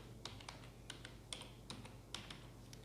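Keys on a computer keyboard are typed in short, uneven bursts of light, close clicks while a resume is written in Microsoft Word, with a low hum underneath.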